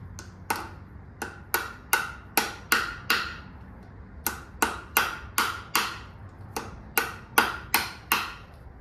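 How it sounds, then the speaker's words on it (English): On a 1978 Ford, a hammer beats a socket onto a bolt with sharp metallic strikes, delivered up close in quick bursts of about four to six blows separated by short pauses. "We have to beat another socket on this thing"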